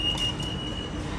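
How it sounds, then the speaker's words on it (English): Steady low rumble of an electric monorail train in motion in Malaysia, with a thin whine on top and no voices. "It's really hard for me not to smile when riding a monorail."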